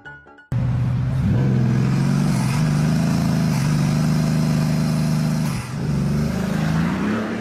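A Mercedes GTS engine revs hard and loud up close, its pitch climbing and dipping through several throttle blips, with a brief lift near the end before the roar returns.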